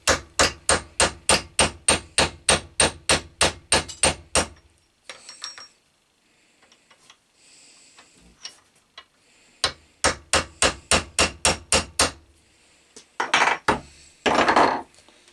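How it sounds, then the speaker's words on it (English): A 12-ounce hammer taps a jammed DeWalt keyless drill chuck in a steady run of sharp, ringing blows, pauses, then strikes again in another quick series, followed by some clattering. "This is a 12-ounce hammer, so it's not a particularly big one."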